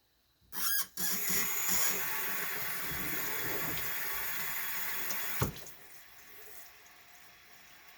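Water runs and splashes while a pickle crock is rinsed out, a sudden loud rush that holds steady for several seconds, then cuts off abruptly and leaves only faint drips and handling sounds.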